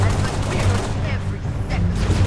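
Rapid gunfire fills a battle in the game Halo: Reach, with dense automatic bursts over a heavy low rumble, loud and continuous, and game voices come through briefly in the mix.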